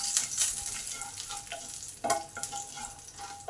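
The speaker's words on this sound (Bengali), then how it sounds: "তেল গরম হলে তেলে একটা কাঁচা লঙ্কা ভেঙে দিয়ে দিলাম, কিছুটা হিং দিলাম, কালো জিরে দিলাম, কারি পাতাগুলো দিয়ে দিলাম।" Broken green chilli, asafoetida, nigella seeds and curry leaves fry in hot oil with a steady crackling sizzle and occasional scraping stirs, close and fairly loud.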